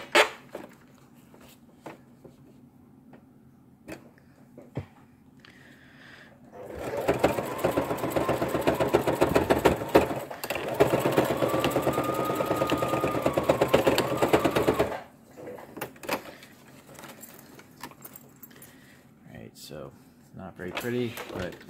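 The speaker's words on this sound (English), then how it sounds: "First thing I'm going to do is sew these two back together." A sewing machine stitches fanny pack pieces together in one loud run of rapid whirring lasting about eight seconds. Quieter handling clicks and rustles come before and after it.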